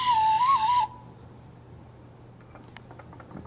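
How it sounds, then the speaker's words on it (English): A tin whistle, a small penny whistle, plays a short wavering note that stops abruptly after under a second, leaving faint background noise. "Some were fluent in playing the tin whistle, or penny whistle as it was called back then, just a little flute,"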